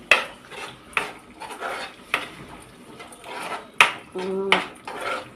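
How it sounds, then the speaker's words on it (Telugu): A spoon scrapes and knocks against a metal pot while poppy seed curry is stirred, giving repeated close clinks and scrapes in an irregular rhythm, with a brief voice near the end. "బాగా కలుపుకుందాం."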